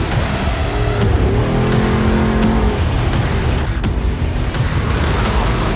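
A race truck speeding through the desert at over 100 miles an hour, its engine a loud, steady roar with rumbling low end and occasional sharp knocks, continuous throughout.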